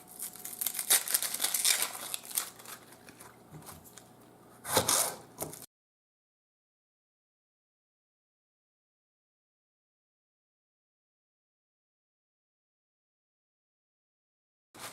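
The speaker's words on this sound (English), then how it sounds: "This is a regular onion. And I'm going to cut it up into little chunks." A knife chops a regular onion into chunks, giving a burst of crisp crunching, crinkling cuts for about five seconds before the sound stops and silence follows.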